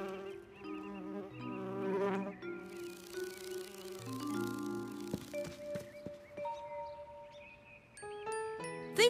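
A bee buzzes in a children's cartoon, its tone sliding and wavering in short bursts, joined by tinkling chimes and bright musical notes.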